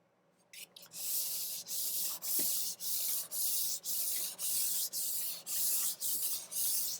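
Compressed charcoal stick rubbed evenly across sketchbook paper in a steady back-and-forth rhythm, about a dozen close, raspy strokes with brief pauses between them.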